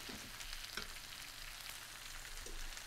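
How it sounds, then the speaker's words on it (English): Onions cooking in a little butter in a skillet, a faint continuous sizzle with a few soft clicks, heard alone without talk. "take your onions and put them into the skillet. And remember, we're doing our side dish with cabbage and apples. And there's a little bit of butter in there."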